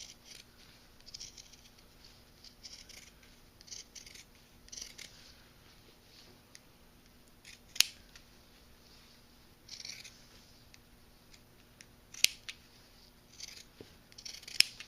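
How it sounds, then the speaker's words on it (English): Pinking shears cut a fabric shape out along a marked black line, giving faint scattered snips and rustling with a few sharper clicks, quiet and close with no talking. "You're going to cut your shape out, and you're going to cut inside the black line, so you're going to cut the black line off."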